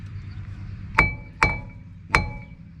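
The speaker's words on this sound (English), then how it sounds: "let's give it a couple taps with the hammer. Tap the drum itself." A hammer taps the outside of a seized brake drum on a Kia Rio, giving three sharp, ringing metallic clinks spaced unevenly, close and clear over a quiet background.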